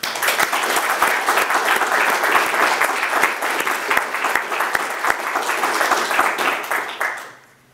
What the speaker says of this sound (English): I ask you to join with me in a round of applause to salute them on World Press Freedom Day